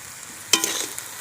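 Semolina is stirred into potatoes in a pan: one quick scraping stir with a soft sizzle, brief and close, against a quiet background.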